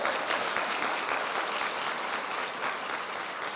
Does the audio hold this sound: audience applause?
yes